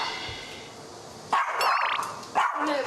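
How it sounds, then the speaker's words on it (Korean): A dog barks loudly and sharply behind the front door of a home in Incheon, two bursts of high, strained barking with whining overtones, close and insistent over a quiet hallway background. "현관 앞에 도착하자마자 요란스럽게 들려오는 개 짖는 소리"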